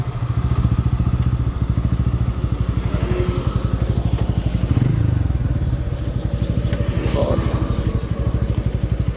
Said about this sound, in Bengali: এই যে আমার N160 বাইক, এটা হচ্ছে FI ABS আর কি